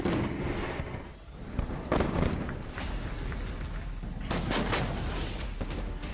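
Blasts from a Pakistani army war exercise boom and crackle in a dense, continuous barrage, with sharp bursts of gunfire-like reports rising over a loud rumbling background; no speech is heard.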